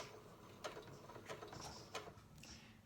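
A sewing machine runs a few reverse stitches into fabric, giving a quiet, close mechanical whir with several sharp ticking clicks spaced through the clip.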